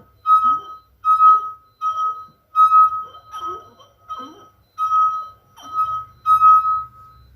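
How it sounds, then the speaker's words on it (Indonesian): A water-filled drinking glass, about a quarter full, sung by a wet finger circling its rim: a steady ringing tone swelling and fading in roughly eight repeated strokes, clear and close, with no talking. "lalu usap jari pada bibir gelas."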